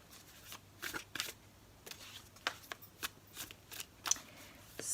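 Shadowscape Tarot cards being shuffled by hand: a run of quick riffling bursts and soft flutters, close and fairly quiet, with no talking.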